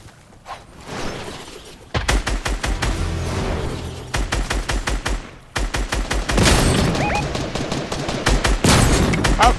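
Automatic gunfire in the video game Fortnite rattles out in loud, rapid bursts separated by short pauses, each burst a tight string of sharp repeated shots.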